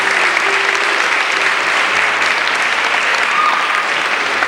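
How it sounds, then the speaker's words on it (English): Steady, dense applause from a pageant audience fills the room at close range, an even wash of many clapping hands with no voices over it. "You folks are wonderful on that applause"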